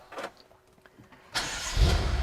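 A 2012 BMW M5 with a twin-turbo 4.4-litre V8 fires up: a brief starter crank and clicks, then a sudden loud catch and deep revving settle into a rumbling idle, close and without talk.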